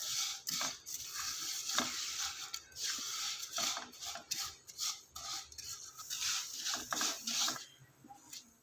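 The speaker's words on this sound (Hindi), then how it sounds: "इसको चलाते हुए आहिस्ता से अच्छे से इसको भून लेंगे" Sweet vermicelli being stirred and roasted in oil in a pan, repeated scraping and rustling strokes from a spatula over a low sizzle, close and uneven in rhythm, no voices.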